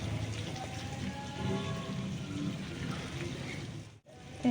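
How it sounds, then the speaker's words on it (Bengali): Water poured into a pan of braising chicken wings makes a steady close sizzle and hiss that runs for several seconds, then briefly cuts off before resuming. "এবার চিকেনটাতে জল দিয়ে দেবো, অল্প করেই দেবো"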